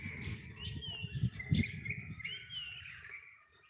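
Birds chirping and tweeting in the village morning, a fairly faint mix of high calls over a low rumble of background noise.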